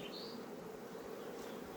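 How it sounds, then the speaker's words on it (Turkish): A steady, dense buzz of many forager honeybees arriving at a hive during a colony split, constant and fairly close, with a faint higher whine drifting across the top. "gelen arılar, dışarıdan gelen tarlacı arılar"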